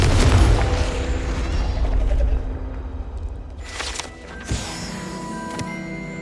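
A Confringo spell blast in the Hogwarts Legacy video game lands as a loud, deep boom at the start. The rumble fades over a couple of seconds, followed by lighter magical chimes and clatter.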